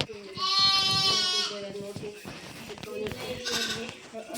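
Sheep bleat loudly and repeatedly, in long wavering calls, close by during a village Sankranti puja for the flock, with people talking over the calls.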